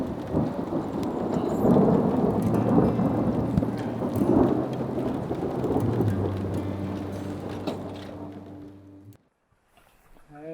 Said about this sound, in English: That night, one of the most impressive lightning storms we've seen since being on the road rolled in and put on an impressive show.